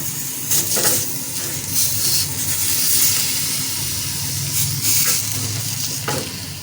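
Whole eggplant roasting on a hot tawa over high heat, skins charring, crackles with a loud, continuous sizzle and hiss, with occasional brief swells.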